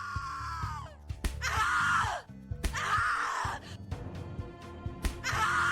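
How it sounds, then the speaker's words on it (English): Loud, anguished screams from a character in The Cat Lady horror video game come in several drawn-out bursts with short gasping breaks between them, close and strained. "Your scream is like a poem"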